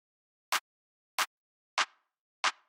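Two clap samples in a drum mix alternate over four hits: a bright, dry clap up front, then a second clap pushed back with a short reverb tail, evenly spaced, crisp and alone.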